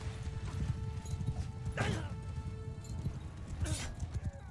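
In the Bannerlord video game, a horse tramples a looter: heavy clip-clopping hooves and thuds, a sharp neigh, and pained yells, all close and busy.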